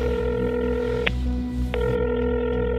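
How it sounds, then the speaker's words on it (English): An outgoing phone call rings through as a steady electronic ringback tone, broken by a short gap, close and fairly loud with no talking over it. "It's ringing."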